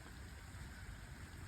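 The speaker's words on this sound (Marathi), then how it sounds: "पाऊस आता चिमचिम चालू आहे." Light drizzle falling outdoors among fruit trees in June, a faint, steady patter with a low rumble underneath, continuous and without voices.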